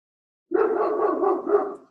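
A single voice imitates a dog barking in one continuous, fairly loud burst of rough, gruff vocalising lasting over a second after a brief silence.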